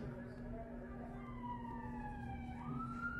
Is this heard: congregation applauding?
no